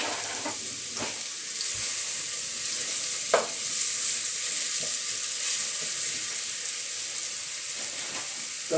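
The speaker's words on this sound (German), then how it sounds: "Das Olivenöl lassen wir heiß werden. Zwiebel dazu." Onion sautéing in hot olive oil in a pan, a steady close sizzle and hiss with occasional stirring clatters and taps over it, continuous throughout.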